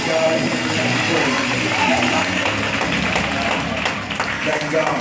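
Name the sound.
church congregation hand clapping in praise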